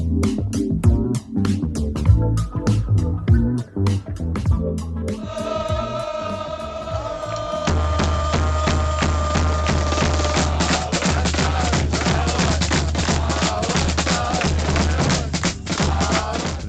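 Detroit City Football Club supporters in the stands make a dense, steady racket of pounding drums and sharp percussive hits with crowd noise, loud and continuous, building into a fuller wall of sound partway through.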